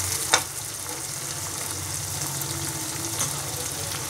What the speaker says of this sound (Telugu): మన ఉల్లిపాయలు అనేవి బాగా మగ్గాయి